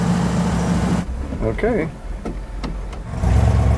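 A 1957 Ford Country Squire station wagon engine cranks and catches, then runs with rough revving as the gas is pumped, close by, with a brief spoken word in between.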